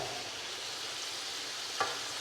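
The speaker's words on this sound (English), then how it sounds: "I'm frying the chicken as they would normally do" Chicken pieces frying in hot oil in a pan for a Lahori-style chicken karahi, a steady close hiss and crackle throughout with one brief louder scrape of stirring near the end.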